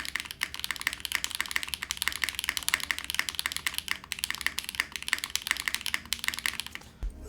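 Rapid, steady typing on a spring-mounted mechanical keyboard with a softer feel, dense close keystrokes clattering continuously with no voices, ending in a brief thump.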